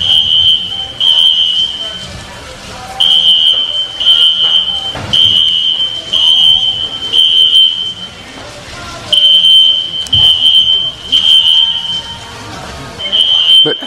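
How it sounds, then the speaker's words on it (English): Fire alarms going off inside a record store, a piercing high electronic beep sounding in repeated bursts with short gaps, loud and insistent over faint background noise and scattered clatter. "that's what's making the alarms go off all crazy like"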